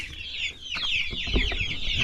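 Chickens on a small farm keeping bees, ducks and geese cluck and chatter close by in a busy, overlapping stream of short calls for two seconds, with no speech.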